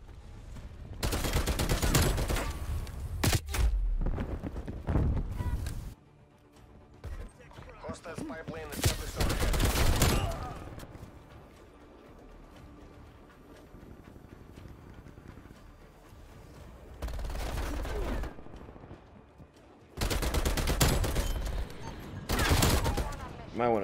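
Two players open up in an online shooter game, firing rapid bursts of gunfire that come in dense volleys separated by quieter gaps, while players talk over it.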